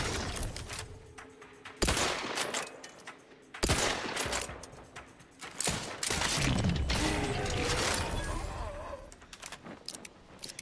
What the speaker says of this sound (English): The feedback on the guns is way better than it was in the first game.